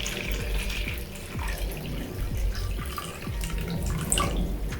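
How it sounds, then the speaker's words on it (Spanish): A little water from a clean container pours into a bowl for mixing plaster, a close, steady splashing stream that runs unbroken for about five seconds with no voices. "vertemos un poquito de agua en el bol"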